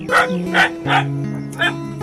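A guard dog on a mountain homestead barks four times in quick, loud, close bursts over a steady low hum.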